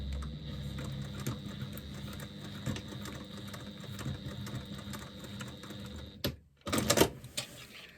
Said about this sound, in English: I'm just going to put a couple of stitches through the very end there within the seam allowance so that my zipper doesn't actually come off